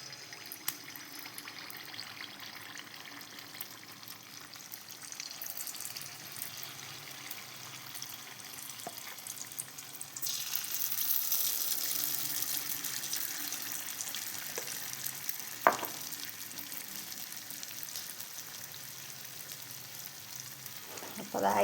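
Jackfruit unniyappam batter fries in hot coconut oil, a soft, steady sizzle with faint crackles and occasional light clinks from the pan, quiet and continuous.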